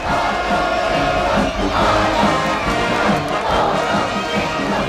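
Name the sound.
crowd cheering after welcome ceremony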